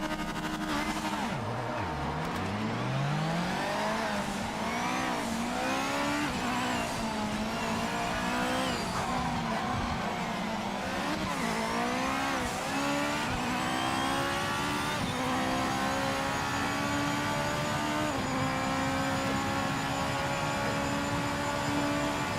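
Race cars starting in the video game Project Motor Racing, a pack of engines revving and accelerating off the line with rising and falling pitch sweeps, loud and continuous throughout.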